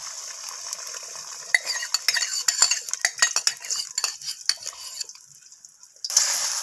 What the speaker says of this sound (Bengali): তেলটা এখন গরম হয়ে এসেছে, আমি এখন এর মধ্যে ফেটিয়ে রাখা ডিমটাকে দিয়ে দেব